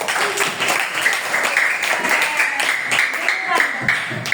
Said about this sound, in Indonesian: Pakai tepuk tangan untuk kelompok 1.